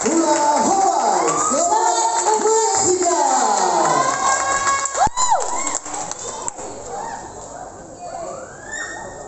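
Loud crowd cheering and shouting with excited children's voices follows a Hawaiian hula dance performance, rising in bursts and then thinning out toward the end.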